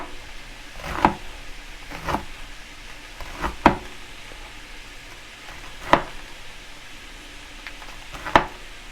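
Onions caramelizing in a pan sizzle softly and steadily, broken by several sharp clicks and scrapes at irregular intervals, close by and with no talking.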